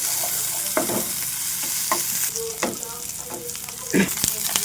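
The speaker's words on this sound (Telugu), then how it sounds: "ఈ ఉల్లిపాయ ముక్కలు కూడా అటు ఇటు తిప్పుకుంటూ కాస్త ఫ్రై చేసుకోవాలి" Onion pieces sizzle in a hot pan for vankaya masala curry while a spoon scrapes and stirs them in repeated strokes, close and fairly loud.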